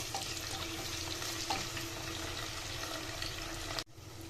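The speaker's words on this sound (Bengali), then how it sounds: "পেঁয়াজ কুচি দিয়ে দিলাম। এবার এটাকে ভালো করে নাড়বো।" Chopped onion frying in oil in a pan while being stirred for mutton rezala, giving a steady close sizzle with a brief stirring clatter and a sharp cut near the end.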